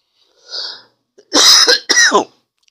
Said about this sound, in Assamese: বুঢ়ী মানুহটো অলপমান কাহ হৈ আছে